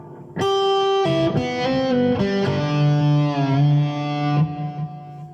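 Electric guitar playing the last section of a song's solo, a quick run of pulled-off and hammered-on notes mixed with ringing open strings, overdriven and loud, then a held low note, no voices.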